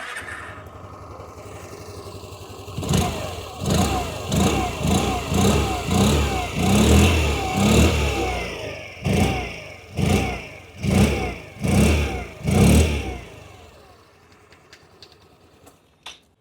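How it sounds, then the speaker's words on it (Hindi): A 2026 Hero Destini 125 Xtec ZX+ scooter idles up close, then its exhaust barks through about nine sharp throttle blips in quick succession before settling back to a quiet idle. "आइए अभी सुन लेते हैं इस स्कूटर की एग्जॉस्ट नोट।"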